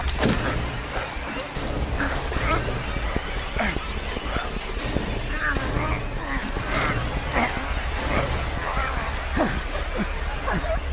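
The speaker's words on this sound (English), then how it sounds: "That street dog should have been put down long ago." Street dog in the Call of Duty Cold War campaign, barking, yipping and whimpering in short bursts amid busy game ambience, with hoof-like clopping and voices mixed in.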